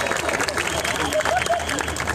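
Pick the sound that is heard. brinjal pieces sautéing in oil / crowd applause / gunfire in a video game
crowd applause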